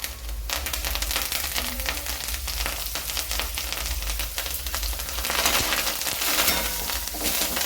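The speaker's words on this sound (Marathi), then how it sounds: "भाजी टाकल्यानंतर हिला असं छान परतून घ्यायचे मिक्स करून घ्यायचे" Fresh green chickpea leaves sauté in a hot pan with turmeric, giving a steady, moderately loud sizzle and crackle with stirring scrapes, swelling brighter toward the end.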